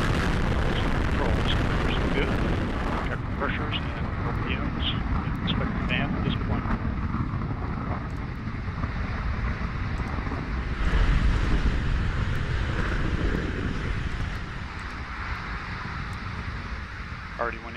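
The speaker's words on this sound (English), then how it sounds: "And liftoff of the Atlas V." Atlas V rocket lifting off with the InSight Mars lander, a loud broadband roar with crackling rumble that holds steady throughout, while a voice talks over it.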